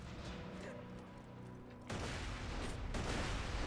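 In a video game, a bouncing grenade goes off with a sudden loud burst of noise about halfway through. Dense rumbling gunfire and battle noise fill the background before and after the blast.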